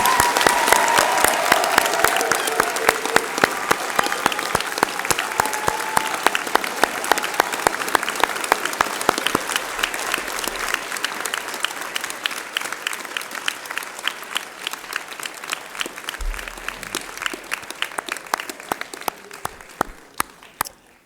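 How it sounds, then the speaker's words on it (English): Graduation ceremony audience applauding the graduates in an afternoon ceremony hall, sustained dense clapping for about twenty seconds that stays loud and steady before thinning slightly at the end. "please join me in applauding our graduates one more time"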